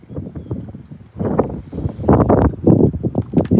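A horse walks outdoors, its hooves clip-clopping in an uneven rhythm close by, mixed with gusty wind buffeting the microphone.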